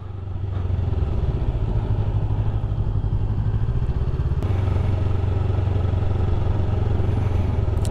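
A motorcycle engine running steadily close by at low speed during a U-turn on a hill, with a continuous throbbing rumble that holds level and shifts slightly partway through, with no talking.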